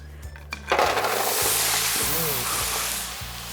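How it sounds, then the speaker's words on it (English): Vegetables dropped onto a super hot, unlined sheet pan burst into a loud, steady sizzle that starts suddenly and holds for several seconds, with a few clinks and low voice murmurs underneath. "help get some of that sizzle and sear going"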